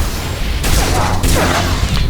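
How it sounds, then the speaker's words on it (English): A bomb set off by a malfunctioning droid in Star Wars: The Old Republic bursts in two heavy, loud blasts a half second apart, each with a deep boom and crackling debris, over a rumbling game backdrop. "That's the malfunctioning droid. All he does is sets off a bomb."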